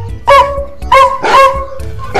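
A cartoon-style dog barks three or four loud, tonal yaps in quick succession over a backing beat in an alphabet phonics song for children.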